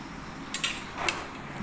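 Chicken curry stirred in a pot with added water, heard as a few faint, brief metallic clinks and scrapes of a spoon against the pot.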